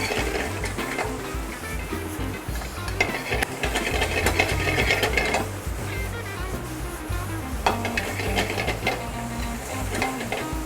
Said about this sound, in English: You really want to get some sear and some color on the mushrooms